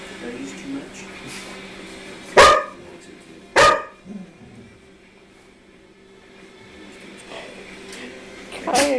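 Two sharp barks from a young dog, a second apart, with a quiet room hum around them and a faint yip near the end.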